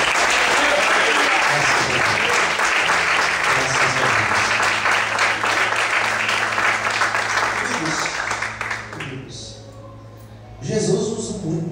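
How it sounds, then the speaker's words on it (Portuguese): A church congregation applauding during an evening service, loud sustained clapping from a large crowd that thins out and fades near the end, with voices audible over it. "Você pode aplaudir o Senhor nessa noite?"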